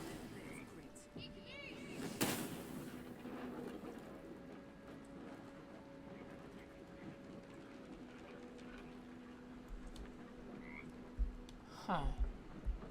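Frogs croak intermittently in a murky swamp area of the video game Baldur's Gate III, low gurgling calls with ambient game tones, plus a few louder croaks near the end.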